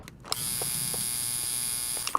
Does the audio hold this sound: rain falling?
no